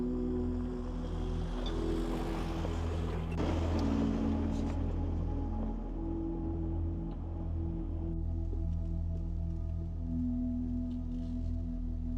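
An off-road vehicle drives through a water crossing, its engine a steady low rumble with splashing and sloshing water, close and continuous, and the water noise fading in the later seconds.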